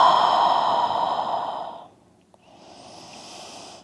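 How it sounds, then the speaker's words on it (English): A long, slow breathy exhale trails off into quiet during a prenatal yoga session, followed by a faint second breath. "Exhale."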